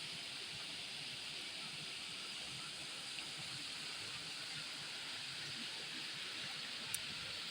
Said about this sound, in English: Feel the sound of the river.